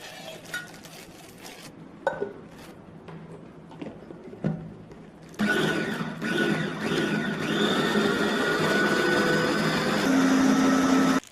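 Garlic is ground in a small electric grinder: a few clinks and taps first, then a sustained whirring motor drone that runs to the end, close and fairly quiet.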